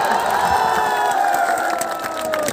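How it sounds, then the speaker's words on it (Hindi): A large crowd cheers and claps at a stage show, a loud, sustained roar of voices and shouts with scattered clapping; a high-pitched shout glides slowly downward through the din. "एक जोरदार ताली हो जाए सब लोग हाथ उठा के"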